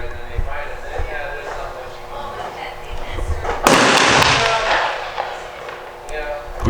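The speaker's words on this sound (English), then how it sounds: "We'll try 5 more shots. Same gun, Sig Sauer TTT." A single loud pistol shot from a Sig Sauer 1911 at a shooting range rings out sharply partway through, with a decaying echo, amid ambient range noise.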